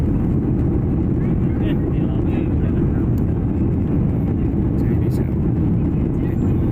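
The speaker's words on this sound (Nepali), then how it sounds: "थाइल्यान्ड जाँदा प्लेनले अब जमिन छोड्यो होला उत्तर साइडतिरबाट प्लेन उडेको है।" A steady, loud, low roar of an airplane's engines during takeoff, continuous throughout, with faint voices murmuring underneath.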